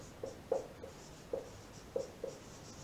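Writing on a board during a Sanskrit grammar class makes six short, scratchy strokes at uneven intervals, close and fairly faint against a quiet room.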